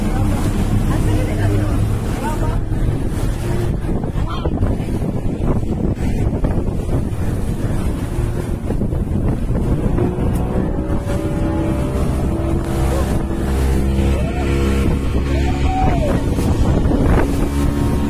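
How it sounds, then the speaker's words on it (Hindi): A motorboat engine drones steadily through a ride at sea off Juhu, with strong wind buffeting the microphone and water rushing past the hull, loud and continuous throughout with some voices faintly underneath. "भाई फाइनली हम लोग बोट पर आ गए"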